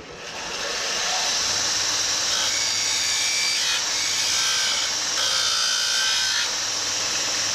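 Bucktool 2x42 belt grinder removing material against its medium wheel, a steady loud abrasive whine and grinding hiss held throughout, with slight shifts in pitch as pressure changes.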